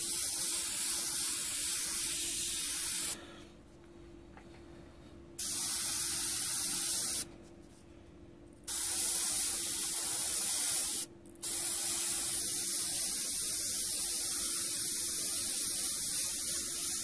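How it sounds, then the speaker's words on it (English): Close airbrush spray hisses in bursts while painting violet tones onto a monotone portrait, cutting off into brief pauses three times before resuming steadily, with a faint mains hum underneath and no talking. "I'm spraying on a larger area"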